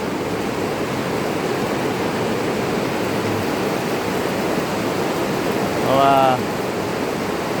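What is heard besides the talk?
heavy rain during a storm in Thailand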